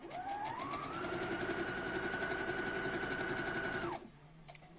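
A sewing machine top stitches a fabric thread catcher close to its strapping, running steadily and loudly for about four seconds, its motor note rising at the start, then stopping abruptly, followed by a faint click.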